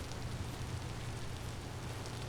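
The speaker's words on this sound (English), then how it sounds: "it's still raining" Steady rainfall in the block-building survival game Vintage Story, an even, quiet wash of hiss with low rumble and no breaks, heard alone without talk.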